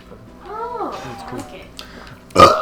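A short, loud burp bursts out near the end, following a stretch of voiced, cat-like vocal sounds.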